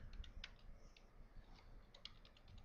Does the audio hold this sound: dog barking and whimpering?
no